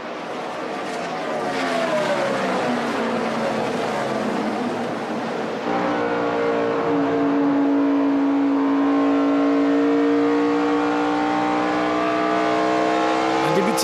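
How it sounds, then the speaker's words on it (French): Naturally aspirated V8 NASCAR Sprint Cup race cars at the 2009 Kobalt Tool 500 in Atlanta roar steadily, their engine note shifting in pitch as they pass, with a commentator talking over the din. "les voitures NASCAR en Sprint Cup Series sont des V8 atmosphériques"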